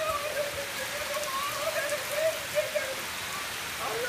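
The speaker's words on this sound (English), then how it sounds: "We're gonna go out there in the rain." Steady rain pours outdoors as a constant, even hiss of drops hitting surfaces, close and moderately loud throughout, with a faint voice briefly audible beneath it.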